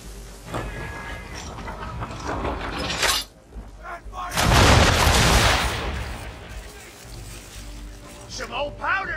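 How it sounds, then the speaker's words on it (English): Ship cannons fire a broadside in the Assassin's Creed 3 naval battle, with a loud burst of booming blasts near the middle and scattered shots and crashes around it, under a voice giving orders and game music. "Now, aim all guns at her bow and do as much damage as possible."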